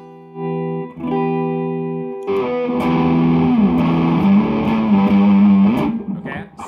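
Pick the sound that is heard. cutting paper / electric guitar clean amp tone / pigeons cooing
electric guitar clean amp tone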